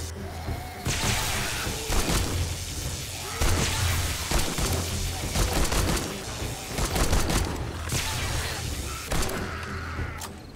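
Rapid bursts of machine gun fire in 7 Days to Die during a zombie horde night, loud repeated volleys with short pauses between them and heavy thuds underneath.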